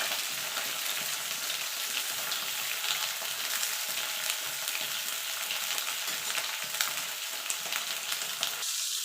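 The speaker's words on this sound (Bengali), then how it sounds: "লাল লাল করে পটলগুলো ভেজে নেবো" Pointed gourd (potol) pieces frying on high heat in a pan, a dense, steady sizzle that stays loud and even for the whole stretch with no voices.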